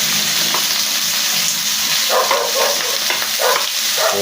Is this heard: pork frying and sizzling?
yes